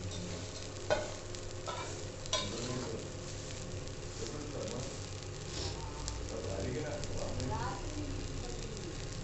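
A dosa topped with onion and oil roasts on a hot pan, giving a continuous soft sizzle with a few scraping spatula strokes, and faint background sounds throughout.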